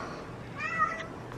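A pet house cat gives a single short meow, soft and close, over a quiet room.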